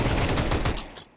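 Pistol gunfire in a Counter-Strike match on Dust2 during an esports broadcast: a dense burst of close, rapid shots for about a second, then trailing off quickly.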